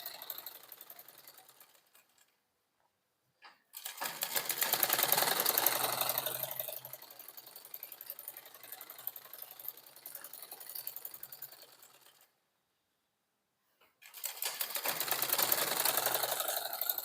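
A sewing machine runs in two long stitching bursts through fabric, separated by brief pauses, close and steady with a dense mechanical whir and no talking.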